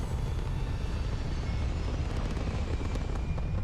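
Spaceship taking off in the video game Starfield, a steady, loud engine roar with a broad rumbling body that holds evenly throughout without pause.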